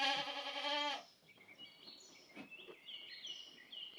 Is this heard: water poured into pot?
no